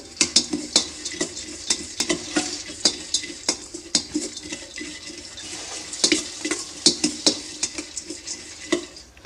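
A spoon stirs girmit, a North Karnataka puffed rice snack mixture, in a bowl, giving a repeated close, crisp scraping and rustling with irregular clinks across the whole stretch.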